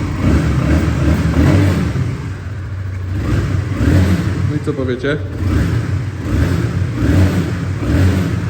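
A 2014 Honda CBR 125R motorcycle engine revs and settles in repeated surges, loud and close, while someone speaks briefly over it.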